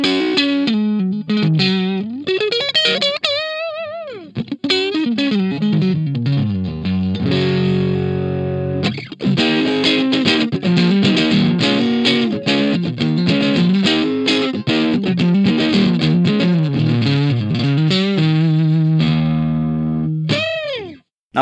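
Electric guitar run through the overdrive of a Gokko AXE MX300 multi-effects unit, with gain turned up for a hairy crunch tone rather than full distortion; loud continuous chords and riffs with a brief pause near the middle, no talking.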